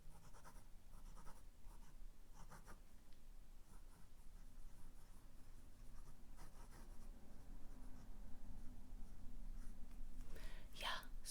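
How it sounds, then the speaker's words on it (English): A Pilot pen with Robert Oster Thunderstorm ink glides across Midori A6 paper, producing soft, close, continuous scratching strokes with brief pauses, quiet and steady throughout. "this is a very smooth writing experience"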